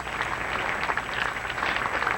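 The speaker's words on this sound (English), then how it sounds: "And the applause for 1979 Masters champion Fuzzy Zeller" Golf gallery at the Masters applauding 1979 champion Fuzzy Zoeller, a steady wash of clapping from a sizable crowd, moderately distant, with no talk over it.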